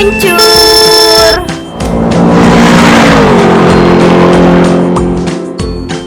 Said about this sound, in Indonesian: Mobil blue meluncur.